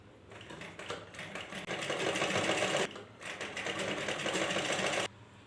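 A sewing machine stitches a princess cut blouse in close bursts of rapid, rattling chatter, pausing briefly twice between runs.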